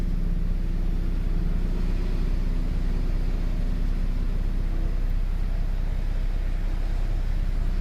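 A 2006 Nissan Pathfinder 4.0 4x4 in limp mode idles steadily nearby, a continuous low engine rumble with no change in pace and no voices.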